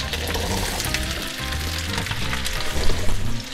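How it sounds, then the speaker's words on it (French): Steady, dense sizzling of potatoes frying in foaming butter, a continuous crackling hiss with a few louder pops near the end. "Et on met les pommes de terre dans le beurre moussant."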